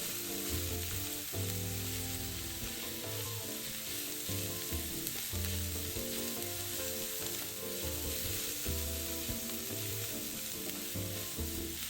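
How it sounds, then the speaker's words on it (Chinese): Onion stir-fried with ground black pepper in a pan gives a steady, close sizzle and frying crackle throughout, with occasional scrapes of stirring, no voices. "炒至洋葱溢出香气后，再加入2小匙黑胡椒粉，一起拌炒均匀。"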